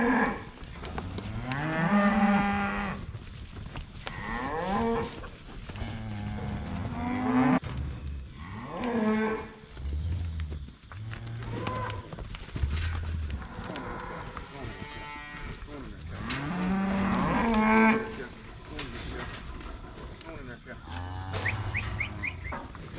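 Cattle moo repeatedly at a farm during calf processing and pregnancy testing, with deep drawn-out calls overlapping and coming from several animals at varying distances, while a person talks intermittently among them.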